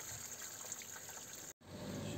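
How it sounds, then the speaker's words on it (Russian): Water flowing away along a field irrigation canal, a faint, steady rushing trickle that cuts out briefly before resuming. "Но, правда, много воды. И вон она утекает."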